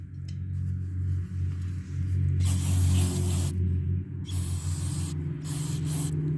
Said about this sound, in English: spraying the gunk off and out of the thing